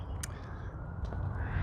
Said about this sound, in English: the crows are having a party over there